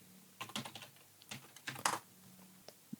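Someone types a password on a computer keyboard, a quick irregular run of nearby key clicks in short bursts with brief pauses, in an otherwise quiet room.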